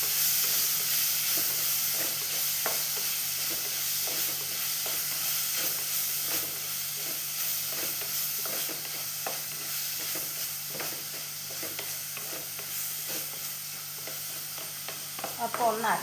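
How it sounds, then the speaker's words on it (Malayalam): Tomatoes frying for a Kerala-style fish curry give a steady sizzle, with repeated rhythmic scraping from stirring throughout and a sharper clatter near the end. "അപ്പോൾ ഞാൻ തക്കാളി ഇട്ട് കൊടുത്തു."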